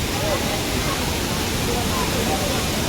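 A steady, dense roar of Rautwadi waterfall fills the scene, constant and close, with faint babble from a crowd of tourists mixed beneath it.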